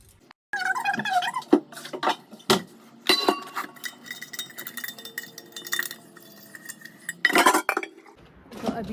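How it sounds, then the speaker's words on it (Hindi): Steel utensils, pots and dishes are washed by hand at home, with irregular clinks, clatters and scraping, some loud bangs and brief pauses between bursts. "तो फ़िलहाल सारे बर्तन धो लेती हूँ"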